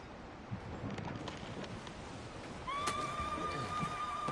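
A horse in the PS4 game Ghost of Tsushima, on Iki Island, gives a few soft hoof steps outdoors over faint wind, then lets out a loud, drawn-out whinny near the end.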